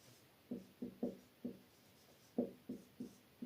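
Pen strokes on paper while writing out a geometry problem, a series of short scratchy bursts with brief pauses, close and fairly quiet, no talking.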